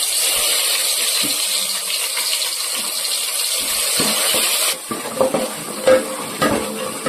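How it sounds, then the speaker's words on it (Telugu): Ginger paste frying in hot oil in a pan, a loud, continuous sizzle with some stirring and scraping of the pan toward the end. "తగినంత ఆయిల్ పెట్టుకొని దీంట్లో అల్లం పేస్ట్ వేయాలి"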